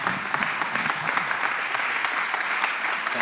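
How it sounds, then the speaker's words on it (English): A conference audience gives a round of applause after a scene-setting talk by Adam Siem, a dense, steady crowd clapping that stays loud and even throughout without a break. "please give Adam a round of applause."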